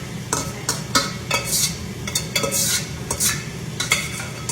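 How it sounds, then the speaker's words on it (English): Onion, pepper, garlic and butter stirred into ground beef in a pan for homemade spaghetti sauce, with repeated scraping spoon strokes and a steady sizzle underneath, close and continuous. "I'm just going to put all of these onion and pepper and garlic, all that butter, into my ground beef."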